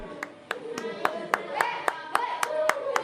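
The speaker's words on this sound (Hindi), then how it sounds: "पूरी क्लास तालियों से गूंज उठी" Sharp, evenly spaced single claps, about ten in three seconds, ring out over a steady background of talk and music, standing in for a whole class applauding a top-scoring student.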